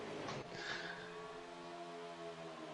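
Race cars in a NASCAR Heat cup series video game roar together in a pack, a steady, faint engine drone with one car's pitch briefly rising as it accelerates, no voices.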